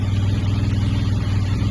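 A motorcycle engine idles steadily nearby, a constant low throbbing hum with a faint high electronic whine above it, with no talking.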